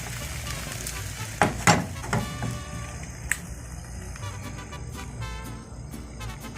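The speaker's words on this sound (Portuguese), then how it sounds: "Aí nós vamos derramar a nossa mistura e espalhar em toda a frigideira" A batter mixture is poured and spread in a hot frying pan, with a steady close sizzle and a few sharp clicks and scrapes of spreading over the frying.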